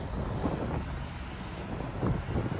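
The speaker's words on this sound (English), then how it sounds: "Wind's picking up." Wind buffets a microphone outdoors on a cold March day in Regina, a steady blustery rush with a few stronger gusts, with no voices.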